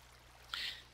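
Water being placed and flowing in Minecraft, a brief burst of splashing and rushing water that swells and fades within a second over a quiet background.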